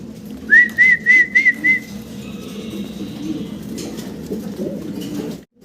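A bird's rising whistle-like call repeats five times in quick succession, followed by soft low cooing and murmuring of male Belgian racer pigeons that continues steadily underneath.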